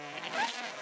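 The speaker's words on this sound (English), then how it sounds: "Bees!" Cartoon bees buzzing in a steady, close insect drone with a faint whining rise mid-clip, heard alone for under a second.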